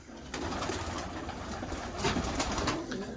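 Racing pigeon breeding cocks coo steadily in a loft, a continuous overlapping murmur of low calls at moderate, close range with no talking.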